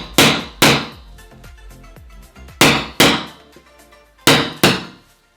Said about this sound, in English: So I just take the punch, put it on the flange, tap a little bit